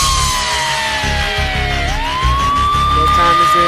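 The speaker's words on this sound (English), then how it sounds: "I've never been so much more happy to hear a tequila siren than now." A novelty tequila-time siren wails with a long falling-then-rising tone, loud over a thumping music bed.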